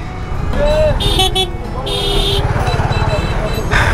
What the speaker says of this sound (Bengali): আমি এই মুহূর্তে তুষারের R15টা চালাচ্ছি।